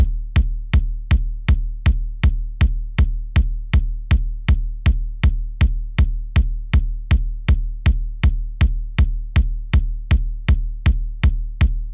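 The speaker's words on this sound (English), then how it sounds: "So we have the kick, and the kick is played normal on the BPM." Kick drum from a soca riddim beat, a deep punchy thump hitting steadily on every beat, about two per second, repeating alone without other instruments or talk.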